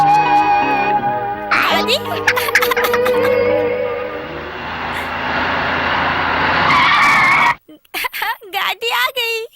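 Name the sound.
car arriving with skidding tires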